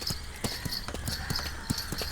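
Hooves of a horse on a beach at Kozhikode clop in a steady, even rhythm at moderate distance, a run of regular knocks over faint background hiss.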